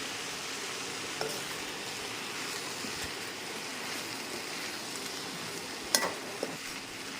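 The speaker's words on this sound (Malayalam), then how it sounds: "ഇനി നമുക്ക് ചിക്കൻ പീസസ് ഇതിലേക്ക് ആഡ് ചെയ്യാം ഇനി ഇതെല്ലാം കൂടി ജസ്റ്റ് ഒന്ന് മിക്സ് ചെയ്ത് കൊടുക്കും" Chicken pieces stirred into half-cooked vegetables in a pan for a chicken salad side dish, giving a steady broadband sizzle with soft stirring scrapes and a couple of sharper utensil knocks near the end.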